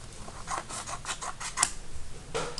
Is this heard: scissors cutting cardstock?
yes